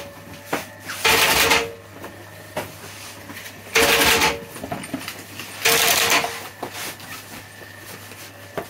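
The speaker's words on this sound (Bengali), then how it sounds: "এই যে এখানে এটা হচ্ছে কার্টুনের মেশিন।" A carton box making machine in a cardboard box factory runs with a steady low hum, broken by three loud, broad mechanical bursts of about half a second to a second each, spaced a couple of seconds apart, with lighter clatter between them.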